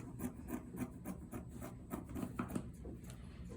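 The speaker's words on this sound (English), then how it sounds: "I'm going to go ahead and cut my 1/2 inch seam allowance" Scissors cutting a half-inch seam allowance through fabric on a pattern, a steady series of soft rasping snips close up, with no talking.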